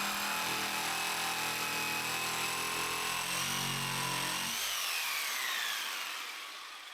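Saber saw cutting through wood, a loud continuous buzzing rasp that runs steadily for about four and a half seconds, then cuts out and leaves a fading tail.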